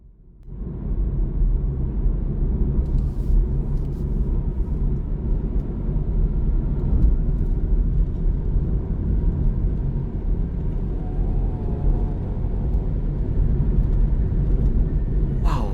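A BMW 3 Series in comfort mode accelerates along the Cimanggis–Cibitung toll road, a steady, loud low engine and road rumble filling the cabin without pause, heard from inside the car.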